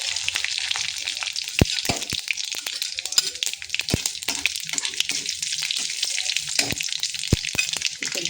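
Cumin, mustard seeds and chili crackle and sizzle in hot mustard oil, a steady hiss broken by sharp popping spits and occasional stirring clatter, close by with no talk.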